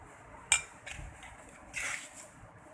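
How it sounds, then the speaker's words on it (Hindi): Sugar added to a malida mixture and mixed with a spoon, a sharp clink of metal on the vessel followed by soft scraping and a short gritty stir, quiet and close. "अब जो है इसमें डालेंगे चीनी, इसको भी मिक्स करेंगे।"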